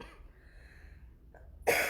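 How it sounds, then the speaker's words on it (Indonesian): A single sharp cough bursts out near the end after a quiet, faintly breathy stretch, close and loud, from someone with a lingering three-week cough. "Jadi ceritanya udah batuk minggu ketiga nggak selesai."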